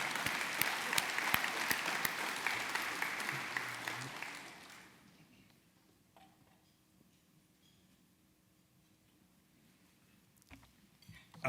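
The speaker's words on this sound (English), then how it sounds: "You can give him an applause," At a city's State of the City event, the crowd applauds the mayor with dense clapping for about four seconds, then it tapers off into quiet room tone with scattered small knocks.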